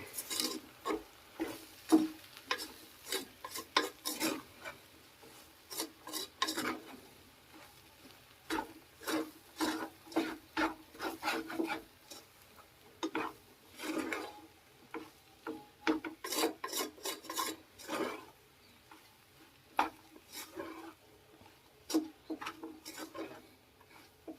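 Uggani bajji batter being mixed by hand in a bowl, a steady run of wet rasping and rubbing strokes in quick irregular bursts, close and fairly quiet, with no voices.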